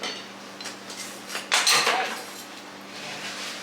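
A longer knife cutting an ube halaya dessert, a few light clinks and scrapes of metal against a dish with one sharper knock near the middle, close and quiet.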